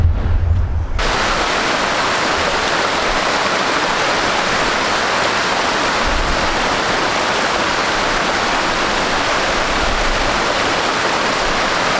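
Cold mountain stream rushing down from above, a loud, close, continuous roar of water filling the whole stretch with no voices.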